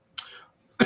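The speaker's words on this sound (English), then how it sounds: "After I finish coughing" A person coughing during a live podcast recording, two short sharp coughs about half a second apart, close to the microphone in a quiet room.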